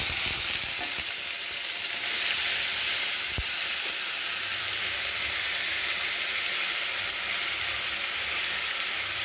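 Garlic, onion paste and tomato paste sizzle steadily in a hot oiled pan while prawn malaikari is cooked, a loud continuous frying hiss with a faint stir or clink near the start.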